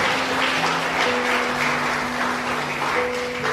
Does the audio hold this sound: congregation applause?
yes